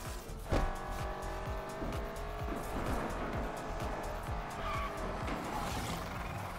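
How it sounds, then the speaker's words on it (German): A car drifts in the Need for Speed Unbound racing video game, with sustained tire squeal and a revving engine that stay continuous and loud from start to finish. "Warum gehst du so in den Drift, Junge?"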